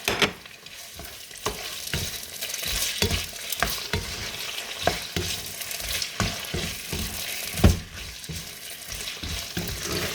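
Meat sizzles and spatters in a hot pan with repeated stirring and scraping strokes, close and steady, with no voices.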